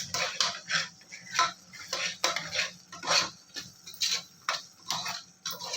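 A spoon scrapes and clinks against a pan while spices and chili powder are stirred for tomato bath, steady rhythmic metallic taps and scrapes, close and moderately quiet, with no talking.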